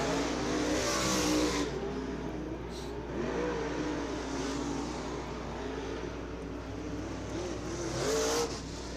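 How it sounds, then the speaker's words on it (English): A modified race car runs practice laps at Ocala Speedway, its engine droning and rising and falling as it circles the track, with a louder surge near the start and again near the end, no talk over it. "Well, this guy just unloaded this race car. Look at him go."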